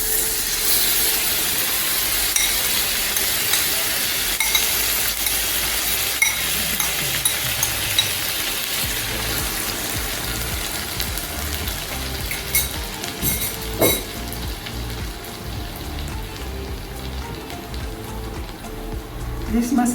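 Mustard seeds splutter and crackle in hot oil in a home kitchen pan, a loud, continuous sizzle with dense popping and occasional sharper spits, close up throughout.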